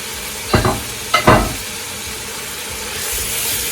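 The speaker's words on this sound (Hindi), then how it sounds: "मसाले के साथ इनको भून लेना है।" Fried chicken koftas being stirred through masala in a pan, with two loud scraping, sizzling bursts close up near the start, then a steady soft sizzle as the cooking settles.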